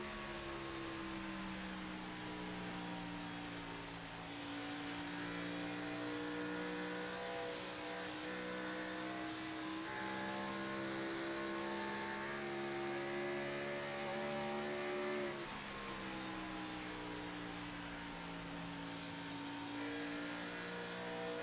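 Video game race car engines drone continuously at high revs during the Lone Star 200 All-American Cup Series race, pitch rising and falling as the cars shift and corner, with a steady game-like engine tone throughout.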